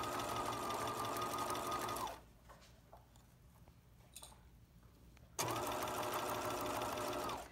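A sewing machine stitching through paper-pieced fabric whirs in two steady, even runs, the motor stopping for a quiet pause between them, close and clear with no talking.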